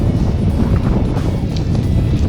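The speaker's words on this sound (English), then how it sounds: "Oh, it's windy up here." Strong wind buffets the microphone of a cyclist on an exposed hilltop, a steady loud roaring rumble with no talk over it.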